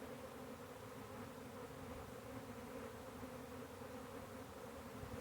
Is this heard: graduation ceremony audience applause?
no